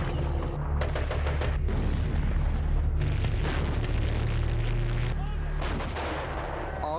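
Artillery guns fire repeatedly in wartime combat, sharp loud blasts landing in irregular bursts over a constant heavy rumble, with scattered smaller cracks of gunfire between them.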